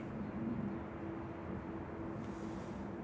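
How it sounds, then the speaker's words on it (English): An EasyJet airliner inbound from Milan on approach to land at Manchester Airport on a gusty day, heard as a steady, distant jet rumble with a faint tonal whine held throughout. "Coming in now, though, from Milan is flight 3835 for EasyJet OEIJR."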